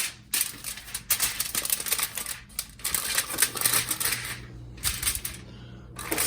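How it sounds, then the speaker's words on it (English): A sheet of tin foil being handled and laid over a kingfish fillet, with close, bursty crinkling and rustling that comes in several loud rough clusters separated by brief pauses. "is I'm going to cover with another piece of tin foil, just like that."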